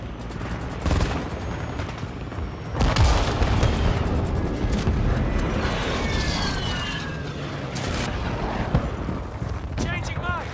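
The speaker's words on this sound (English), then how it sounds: "Friendly precision airstrike inbound." Precision airstrike explosions in Call of Duty: Modern Warfare II ground war, loud rolling booms and crackling blasts layered with gunfire over ten seconds, with voices talking underneath.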